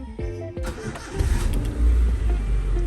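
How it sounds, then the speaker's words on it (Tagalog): A Honda Civic engine cranks briefly and catches, settling into a loud, close idle rumble that carries on alone to the end. "Start natin yung kotse."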